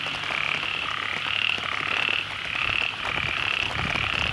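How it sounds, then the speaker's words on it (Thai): Dense chorus of small frogs croaking across a flooded rice field, overlapping high rhythmic trills pulsing steadily from mid distance with no voices. "โอ้โห เสียงเขียดร้องระงมเลยครับ"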